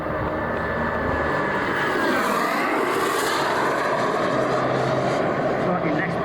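Two CARF model MiG-17 jets fly a duo display at Weston Park, giving a steady, continuous jet roar that swells slightly as they pass, with broad wind-like noise throughout.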